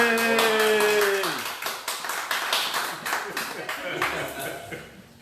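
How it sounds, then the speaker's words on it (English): Audience applause at a Juneteenth memorial evening, starting under a sung or sustained voice that fades, then sharp individual hand claps continue, fairly close and gradually thinning. "And a round of applause, please."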